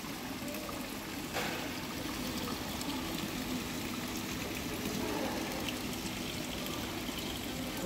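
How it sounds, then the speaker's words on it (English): Water features in an indoor botanic garden with a koi pond send out a steady, close wash of flowing and trickling water that fills the whole span with constant, even noise. "They have some really nice water features in here."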